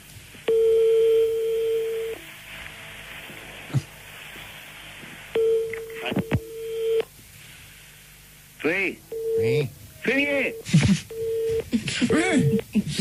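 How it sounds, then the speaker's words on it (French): Telephone tones as a call is redialed during a French radio prank call, heard as long steady beeps in repeated spells with pauses, then quicker tones mixed with voices talking over the line. "Florent, on rappelle tout de suite."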